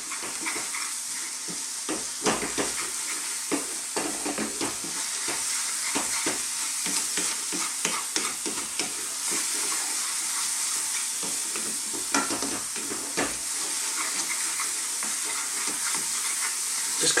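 Turmeric and Kashmiri chili powder cook in a hot pan for a Bengali rohu fish curry, giving a steady close sizzle and frying hiss broken by frequent scraping stirs, with no talking.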